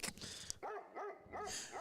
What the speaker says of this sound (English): Oh, wait, that's a dog bark.